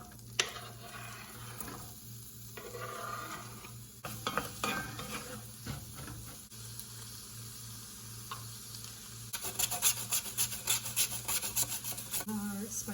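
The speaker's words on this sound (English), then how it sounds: "I also will grate in some ginger that I keep frozen." Frozen ginger is grated over a pan of sizzling chopped onion and garlic. A soft, steady frying hiss runs beneath a quick series of close rasping strokes that grows denser toward the end, with no voices.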